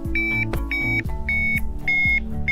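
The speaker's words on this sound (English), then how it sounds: "a nice loud buzzer or Vario sound" Loud electronic beeps from a Digifly Air BT hang-gliding variometer sound in a steady repeating pattern, each tone held briefly with short gaps, over a low humming background.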